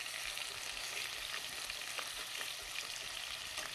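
Pheasant browning in a hot pan gives a faint, steady frying hiss with occasional small pops and soft stirring sounds. No talking is heard.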